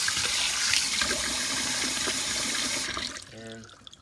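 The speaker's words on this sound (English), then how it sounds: "Kind of rinse it out a little bit." Tap water runs steadily into a sink while a coffee maker is rinsed out, a close, even splashing stream that cuts off near the end, leaving faint drips and clatter.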